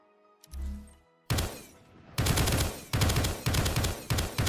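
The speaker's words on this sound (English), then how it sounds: "In theory, we should have ADS shooting now." Assault rifle fire in a video game while aiming down sights: after a brief mechanical lead-in, loud close bursts of automatic gunfire arrive in quick repeated volleys, each sharp crack followed by short decay, with no talking.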